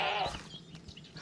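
Goats bleating in a fantasy Minecraft-style video game modpack, a short loud bleat at the start followed by fainter calls and background game sound.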